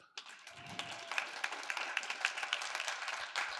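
A crowd applauds, many hands clapping steadily in a dense, even wash of sound.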